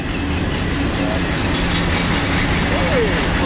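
A long freight train grinds steadily by on Cajon Pass, a loud, close, unbroken rumble with faint squealing wheels near the end, no voices.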